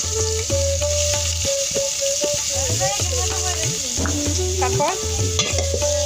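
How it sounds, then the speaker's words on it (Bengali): Chowmein and onions sizzling and frying in a pan as they are stirred, with a steady hiss and scraping strokes. Voices talk over the cooking and a tonal melodic sound runs through it. "এখানে চাউমিন রান্না হচ্ছে।"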